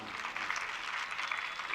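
An audience claps steadily through a religious discourse hall, a dense even patter of many hands at moderate distance, with no voice over it.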